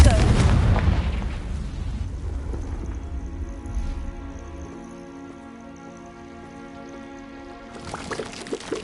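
A fiery Confringo spell blast in Hogwarts Legacy bursts with a loud, deep boom at the start, then a rumbling, crackling decay that fades into a sustained tonal hum before a few small pops near the end.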